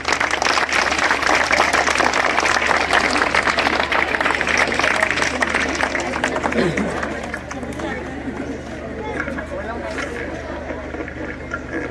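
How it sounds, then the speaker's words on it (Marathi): An audience claps at a felicitation ceremony in Bankot honouring a student selected for a NASA/ISRO study tour: dense, loud applause for about seven seconds that then thins and softens, with crowd murmur underneath. "अरे जोरदार टाळ्या होते."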